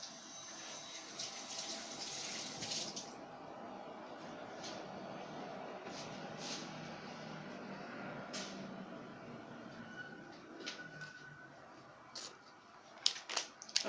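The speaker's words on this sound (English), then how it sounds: "Let me wash my hands" Water runs steadily from a kitchen tap while hands are washed, a soft continuous splashing hiss at low level that eases toward the end, broken by a few small clicks and knocks.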